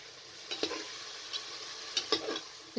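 Spiced potato and meat curry being stirred in a pot over a medium flame, a few soft scraping strokes and light sizzling spaced through a quiet stretch.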